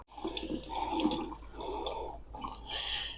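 Nutrient-based water pours steadily into a plant pot, a continuous splashing trickle that shifts in tone as it fills, ending with a brief lighter splash.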